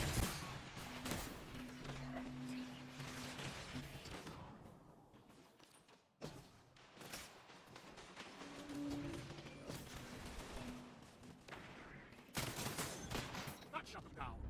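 Rapid gunfire rattles through Destiny 2 PvP gameplay, faint bursts of shots and weapon clatter running almost continuously beneath a voice, with a short lull near the middle.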